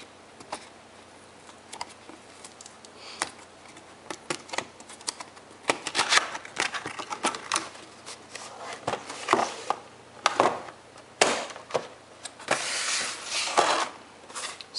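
Packaging for a Razer Naga 5600dpi MMOG gaming mouse is opened, with a dense run of close clicks, crinkles and scrapes that grows busier and louder toward the end.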